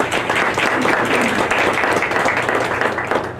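An audience at a community event bursts into brief, loud, dense applause, many hands clapping together continuously with no talking over it.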